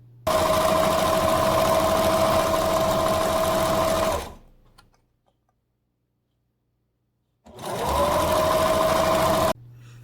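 A sewing machine stitches fabric for a homemade mask in two bursts, a fast, loud, steady whirring run of about four seconds, a pause of silence, then a shorter run of about two seconds.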